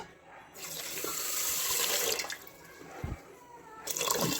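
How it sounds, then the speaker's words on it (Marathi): Water runs and splashes steadily into a pot with sugar for gulab jamun syrup for a few seconds, close by, with brief pauses and a soft clunk partway through. "पाणी घालूया"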